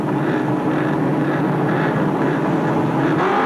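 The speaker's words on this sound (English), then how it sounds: "Allan Grice sideways off the line, being chased here by Terry Shield on the inside" Ford Falcon racing cars launch off the start line at Amaroo Park in 1983, a continuous loud engine roar filling the whole stretch without breaks.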